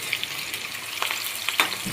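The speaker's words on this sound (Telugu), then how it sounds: "4 స్పూన్స్ పోసుకొని పోపు దినుసులు, జీలకర్ర, ఉల్లిపాయలు వేసుకొని వేయించుకోవాలి." Onions, cumin and tempering spices fry in about four spoons of hot oil in a kadai, giving a steady close sizzle with scattered pops and crackles and no talking.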